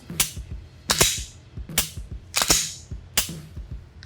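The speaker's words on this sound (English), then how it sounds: "What won't help you practice is if you're dry firing sloppy like this" A firearm dry fired with fast, sloppy trigger pulls: five sharp, loud mechanical clicks at an uneven pace, each with a short ringing tail, and no talking.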